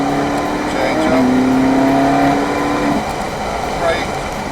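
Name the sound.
supercar accelerating on race track, changing gear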